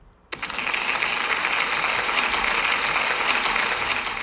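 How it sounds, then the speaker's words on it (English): A class of pupils bursts into steady applause for a classmate, starting abruptly after a brief quiet moment and continuing loud and sustained to the end. "can we give Clark a big round of applause, please?"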